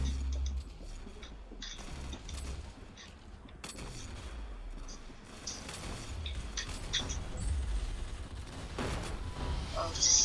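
Hand bazooka shots and explosions in Roblox Arsenal: several sharp bursts and booms scattered across the stretch, mixed with game noise and a voice talking over it.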